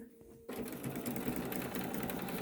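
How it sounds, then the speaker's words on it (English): A sewing machine runs a quarter-inch seam across cotton fabric for a face mask, starting abruptly after a brief quiet moment and then whirring steadily and close up. "we flip it over and we run a 1/4 inch seam across the top"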